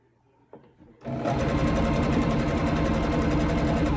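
A sewing machine starts up after a quiet moment and runs loud and steady, close by, with a fast rhythmic mechanical whir while stitching a hem on a stretch fabric skirt.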